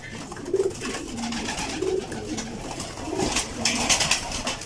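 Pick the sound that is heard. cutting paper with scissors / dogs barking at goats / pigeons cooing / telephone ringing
pigeons cooing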